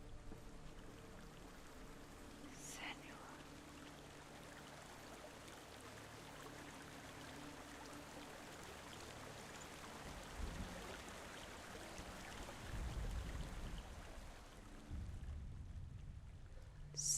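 A rushing waterfall in the Helheim underworld of the video game Hellblade: Senua's Sacrifice pours as a steady, dense wash of broadband noise, with a few low rumbling swells near the end and no voices.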